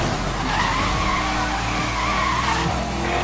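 Tires squeal and skid as street racing cars slide through a turn in Need for Speed, a steady loud screech under engine roar for a few seconds.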